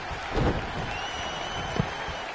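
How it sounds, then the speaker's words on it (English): Crowd cheering and applauding in the WWE 2K20 wrestling video game, a steady broad roar with a couple of louder swells. "Listen to this crowd."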